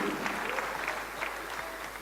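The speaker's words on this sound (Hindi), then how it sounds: "आपकी तालियां खुद ब खुद बज रही हैं" An audience at a network marketing talk claps, with a short burst of steady, fairly faint applause heard alone.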